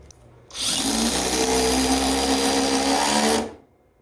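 A Masterforce hydraulic impact driver runs in one continuous burst of about three seconds, a dense whirring hum that starts and stops abruptly, fairly loud and close, with quiet room noise before and after.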